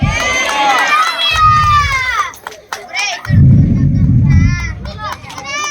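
At a church service, the congregation erupts in loud bursts of shouting and cheering to the Lord, voices rising together in two surges with a short lull and a speaking voice between them.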